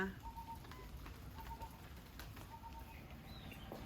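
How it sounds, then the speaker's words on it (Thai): Faint outdoor ambience at a forest-edge farm garden in Thailand with scattered bird and crow calls and short chirps, a few repeated tones over soft background noise. "นกก็เยอะค่ะเสียงนกเสียงกา"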